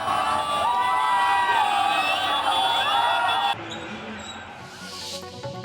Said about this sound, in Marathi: चॅम्पियन ट्रॉफी क्रिकेट सामन्यात भारतानं दणदणीत विजय मिळवल्यानं विरारमध्ये क्रिकेट प्रेमींचा जल्लोष।